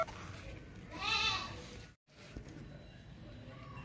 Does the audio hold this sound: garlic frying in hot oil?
no